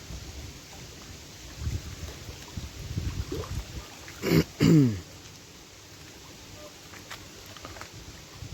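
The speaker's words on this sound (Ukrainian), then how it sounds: "Звісно, вітер дуже мішає, на жаль." Gusty wind buffets the microphone in low, uneven rumbles during bottom fishing in Finland, and someone clears their throat briefly midway.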